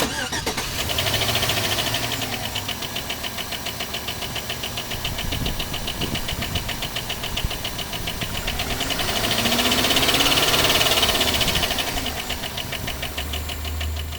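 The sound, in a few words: car engine knocking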